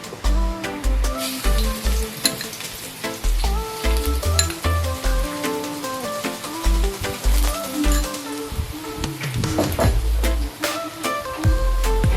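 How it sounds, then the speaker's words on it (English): Garlic stir-frying in a hot pan for a prawn and cucumber dish, a steady close sizzle with scraping stirs and clinks of utensil against the pan throughout, no talking. "Stir fry the garlic."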